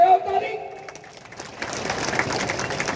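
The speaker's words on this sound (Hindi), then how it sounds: "अरे लगाओ ताली।" A speaker's voice at a political rally gives way to a crowd clapping, scattered at first and then a fuller patter of applause, moderately loud and somewhat distant.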